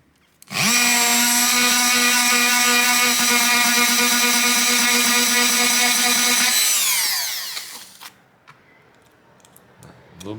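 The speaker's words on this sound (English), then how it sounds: "it's eating through this plastic like it's nothing. Which it pretty much should, it's a metal drill bit." A power drill with a metal bit bores through plastic, a loud steady whine with strong harmonics that holds for about six seconds and then winds down as the trigger is released, leaving quiet handling noise.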